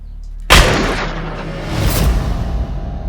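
A single loud, sharp gunshot cracks out near the start, followed by a booming, rolling reverberation that swells again before fading.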